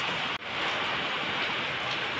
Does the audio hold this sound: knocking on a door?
no